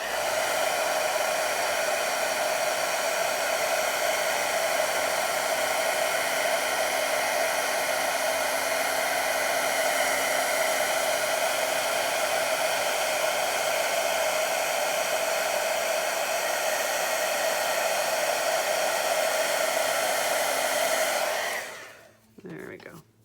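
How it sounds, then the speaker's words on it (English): A heat gun blows hot air over a wax paste card, a loud, steady, close roar of rushing air that runs unbroken for about twenty seconds before cutting off abruptly near the end. "Flip it around so that we don't have our heat gun right near our fingers."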